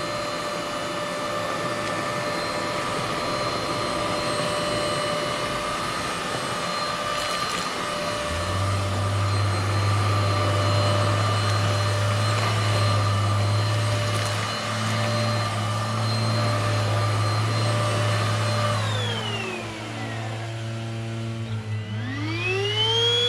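A MOOSOO XL-618A cordless stick vacuum runs steadily with a high electric whine, its motor note deepening midway as it sucks up grass clippings, then winding down with falling tones near the end; no one speaks.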